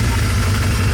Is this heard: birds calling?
no